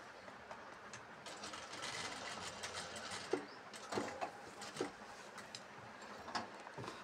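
An overlock sewing machine runs along a seam on a churidar, giving a steady mechanical whir with light ticking and a few sharper clicks, moderately faint and close with no talking.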